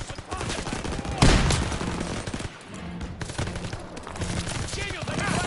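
Dense gunfire from the World War II shooter game Call of Duty: World War II, loud and continuous with overlapping rapid bursts and a sharp blast near the start.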